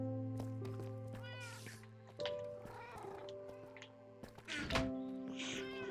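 A cat meowing in a Minecraft-style survival video game, a few distinct meows over a steady droning game background with occasional thunks, no talking.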